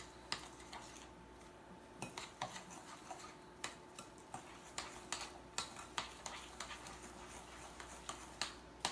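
Eggs cracked in one at a time and mixed by hand in a bowl, with a steady run of light clinks and taps of a utensil against the bowl's side, repeating roughly every half second.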